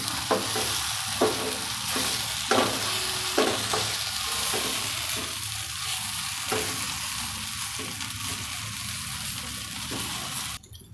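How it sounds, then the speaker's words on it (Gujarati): Idli pieces fry in a pan with a steady loud sizzle while a utensil gently stirs and turns them, its soft scraping strokes recurring every second or so, with no voices. "વચ્ચે વચ્ચે આમ ફેરવતું રહેવાનું। સ્મૂથ હોય એટલે ધીમા હાથે, આમ હલકા હાથે આપણે ફેરવવાની, એકદમ સ્મૂથ હોય ઇડલી।"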